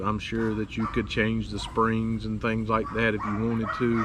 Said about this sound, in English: Sorry about the dogs yakking over there.